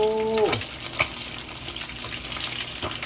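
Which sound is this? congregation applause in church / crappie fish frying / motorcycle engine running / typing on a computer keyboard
crappie fish frying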